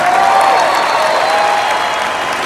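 Convention crowd in Las Vegas applauding a live motivational speech, loud continuous clapping at close range without a break.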